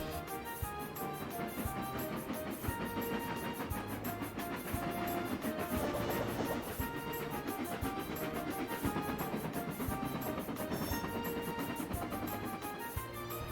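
A train runs along the Little Western branch line, a steady rhythmic clatter of wheels over rail joints that continues evenly throughout, moderately faint and alone.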